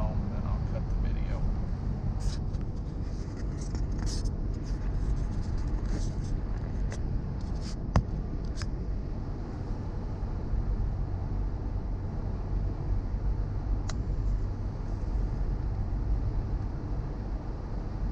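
Steady engine and road rumble from a car driving home, recorded on a GoPro Hero 6 Black, with a continuous broadband drone, a few faint clicks and a voice talking over it.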